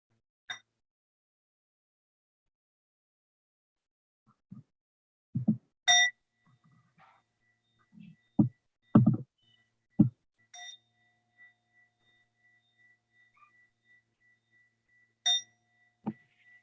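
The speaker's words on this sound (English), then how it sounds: "listen to 3 sounds of the bell" A meditation bell is struck several times at slow, spaced intervals, each bright ring lingering and fading softly in a quiet room, with faint soft thuds between strikes.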